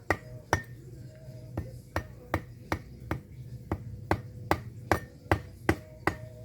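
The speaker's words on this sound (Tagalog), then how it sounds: "Babaon ko gamit ang gulok." A stake of guava wood is hammered into the ground with a bolo knife, a steady run of about a dozen sharp, evenly spaced knocks over a low background hum.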